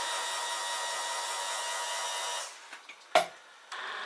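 A mixing device whirs at high speed through soap batter for Bastille cold process soap, a steady broadband drone that runs for about two and a half seconds, then cuts off, leaving a few light knocks and one sharp bump before the hum returns faintly.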